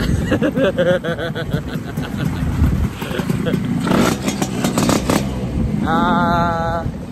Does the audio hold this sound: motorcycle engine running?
yes